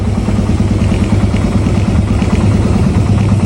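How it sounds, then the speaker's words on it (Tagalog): A Suzuki Raider 150 motorcycle engine, freshly given a carburetor shim adjustment, runs loud and close in a steady, even drone with a fast, regular throb and no change in pitch throughout. "Ayan, napakaganda na ng RPM nya."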